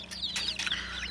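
A hen brooding duck and goose eggs clucks softly in quick, close bursts over a steady low hum, with no talk.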